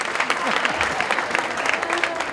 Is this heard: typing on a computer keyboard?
no